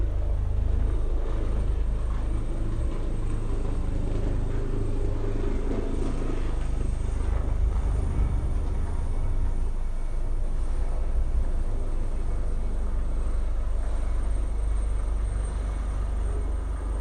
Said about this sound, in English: This is how loud this fucking helicopter is.